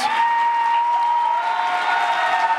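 A crowd of libertarians at a party debate applauds the candidates, a sustained even roar of clapping with a steady tone running through it.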